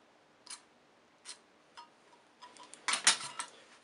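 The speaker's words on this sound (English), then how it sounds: "I just need to cut the remaining part off." Sharp snips or cutters clipping away the leftover part of a tricopter yaw motor mount: a few separate dry clicks, then a denser cluster of snapping cuts, close and fairly quiet with no talking.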